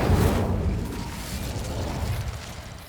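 Incendio fire spell cast in Hogwarts Legacy on PS5, a loud rushing burst of flame that opens strong and settles into a sustained low roar, with no talking.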